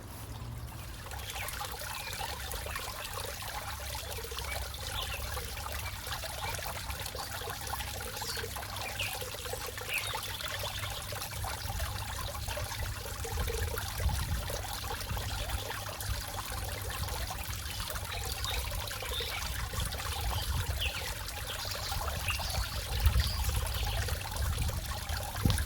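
A garden pond with water trickling and splashing continuously, a steady close burble with faint outdoor background and no talking.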